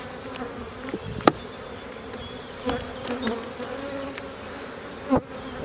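Honey bees buzz around an open hive during a spring inspection, a close, steady drone with individual bees zipping past the microphone and a few soft knocks from handling.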